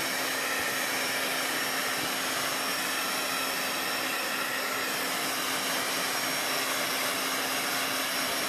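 A heat tool blows continuously to dry craft paint on a pumpkin transfer project, giving a steady, loud, close whooshing hum with no pauses and no talking.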